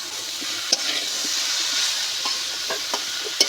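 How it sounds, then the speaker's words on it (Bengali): Radish and cabbage curry sizzles in a pan while being stirred, a continuous frying hiss punctuated by light scrapes and taps of the spoon. "বাঁধাকপিটা দিয়ে এবার আমি এইভাবে নেড়ে চেড়ে শেখাতে থাকবো"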